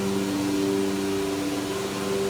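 A vacuum hold-down pump runs on a Biesse Rover K CNC router, giving a steady, even drone with a low tonal hum and broad airy noise and no break across the span.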